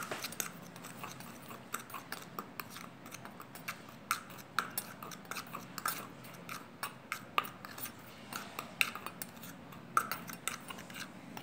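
Homemade rangoli colour powder being mixed in a bowl, a soft, close scratching and tapping with small irregular clicks of a utensil, quiet and without talk.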